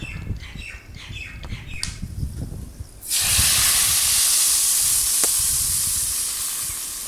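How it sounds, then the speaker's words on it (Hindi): A sudden loud, sustained hiss and crackle as hot tempering oil hits curry, continuing strongly for several seconds and slowly easing, after quieter scraping and clatter. "अब इसको तड़का लगने वाला है"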